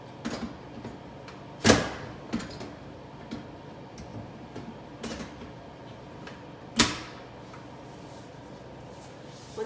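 The clean jet arm attachment of a Combi Oven being fitted into place at the back of the oven, heard as a few sharp mechanical clicks and knocks spaced apart over a low background hum.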